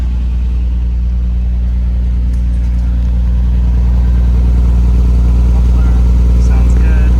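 A Nissan R34 GT-R fitted with a Nismo muffler and Nismo intake idles and revs with a steady, deep, loud rumble throughout, with faint talk in the background.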